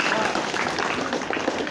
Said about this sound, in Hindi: एक बार दर्शकों जोरदार तालियां बजाएं।